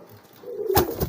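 A male pigeon's courtship coo, rising from soft low murmurs into a louder, closer burst of cooing near the end, heard alone without talk.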